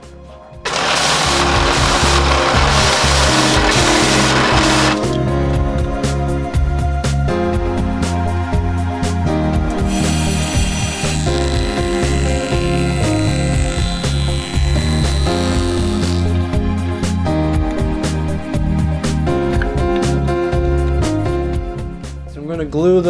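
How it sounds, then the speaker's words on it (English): Belt sander flattening the tops and bottoms of wooden gift boxes, a loud continuous motor whine with grinding bursts as wood is pressed against the belt, varying in intensity throughout. "I'm going to clean up the boxes here on the belt sander"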